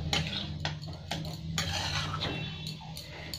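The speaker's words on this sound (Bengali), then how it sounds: "এবার আমার পোস্তটা একটু নেড়ে দেখছি, একদম তেল ছেড়ে দিয়েছে" Posto, a poppy seed paste, being stirred in a pan after it has released its oil, giving soft repeated scraping and clinks of a utensil against the pan with a low steady hum beneath, close and moderately quiet.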